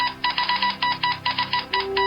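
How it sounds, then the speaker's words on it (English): A stream's chat alert notification chiming in quick repeated bright tonal pulses, about nine beeps in two seconds, clear and alone. "That sound is the chat alert."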